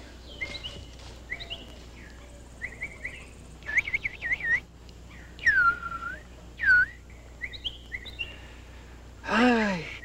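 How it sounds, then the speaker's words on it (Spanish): A songbird sings as a sound effect in a Spanish-language radio drama, with bright chirps, trills and upward whistled sweeps in short bursts, fairly close and clear, and no voices over it. "Ay, qué lindo tú cantas, condenado pajarito."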